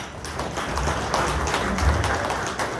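Brief round of applause from a modest morning-event audience, scattered clapping that swells slightly and holds steady for a few seconds.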